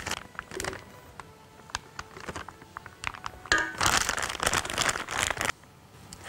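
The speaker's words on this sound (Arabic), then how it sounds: "ناخدها ونحطها في كيس حلواني" A plastic piping bag crinkles and rustles as choux dough for French crullers is spooned into it, with close, intermittent crackles that grow denser and louder midway before stopping abruptly; no talking.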